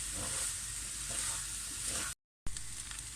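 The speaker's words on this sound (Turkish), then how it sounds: "Pirincimle güzelce kavuracağım. her tarafım salçaya bulaşmasını sağlayacağım." Rice frying with tomato paste in a pan, a steady soft sizzle with light stirring, continuous and fairly quiet, with a brief dropout of silence partway through.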